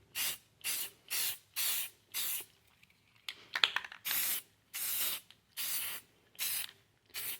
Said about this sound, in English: When you go to spray this, you don't need to have the stencil tight against what you're spraying.